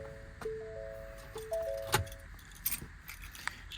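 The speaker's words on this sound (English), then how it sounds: "You have 3 sets of keys here." Keys for a 2022 Ford F-550 service truck jingle and clink in a few brief bursts, close and fairly quiet, with a couple of soft metallic chimes between them.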